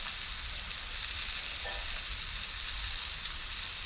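Food frying hard in a hot pan with oil spitting and splashing back, a steady loud crackling hiss that runs unbroken throughout.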